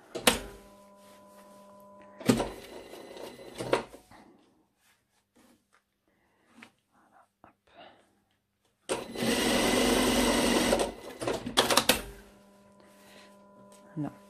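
Home sewing machine stitching a small corner on a skirt, running in short bursts: a brief run, a longer one, then a steady loud run of about three seconds, with quiet pauses and faint handling noise between.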